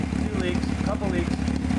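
A Honda sportbike engine idles loud and close with a steady, throbbing rumble; the bike has a leaking carburetor.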